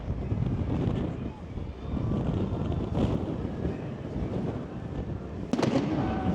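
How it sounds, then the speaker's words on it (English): New Year's Eve fireworks around Blackpool give a dense, continuous crackle and rumble of distant bursts, with a sharper crack near the middle-to-end, wind buffeting the microphone and faint voices underneath. "We've got fireworks going off all over the place."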